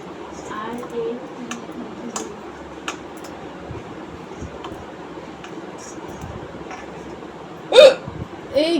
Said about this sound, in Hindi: हिचकी रुक ही नहीं रही है मेरी।